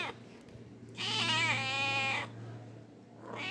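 A cat meows once, a drawn-out, wavering cry over a low steady hum, with quiet background before and after.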